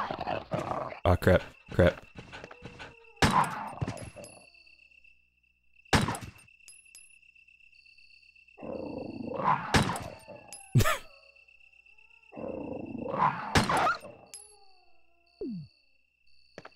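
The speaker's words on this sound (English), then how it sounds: "The dogs don't do a ton of damage." Attacking dogs in the Resident Evil video game growl and snarl in two rough bursts amid game effects and thuds, with someone talking over the start.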